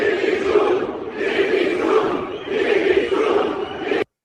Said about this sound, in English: Iran, they are chanting praise.